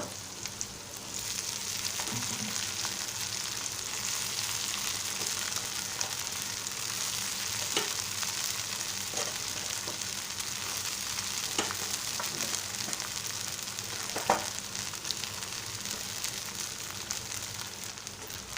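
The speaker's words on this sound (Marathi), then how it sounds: "आता आपण पोहे घालणार आहोत" Flattened rice (poha) sizzles in a hot pan for potato poha as it is stirred, a constant frying hiss with occasional soft scrapes and clicks; no talking.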